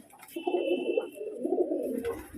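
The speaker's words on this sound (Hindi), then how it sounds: "ये देखिए आप कबूतर" Pigeons kept in a loft coo in low, rolling, throaty bursts, two long murmuring phrases close by with a faint high hiss behind them.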